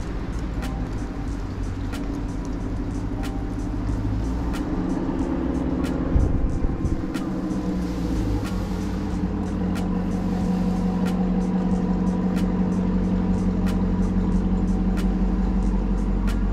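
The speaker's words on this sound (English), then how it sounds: "You're right, it's the Volkswagen Corrado" Steady engine drone and road rumble from inside a moving Volkswagen Corrado, with regular ticking clicks running through it and no one speaking.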